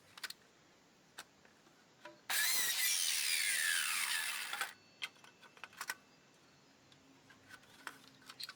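Pallet wood pieces for a planter bottom are cut with a power saw: one loud, steady cut of about two seconds that stops abruptly, surrounded by quiet clicks and light knocks as the wood is handled.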